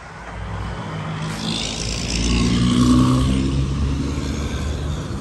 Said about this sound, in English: We got a drifting car right here.